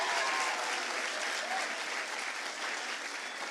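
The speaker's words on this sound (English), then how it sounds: "Give it a nice round of applause, Henry." Steady applause from an audience at a middle school ninth-grade awards ceremony, dense and even for the whole stretch with no break.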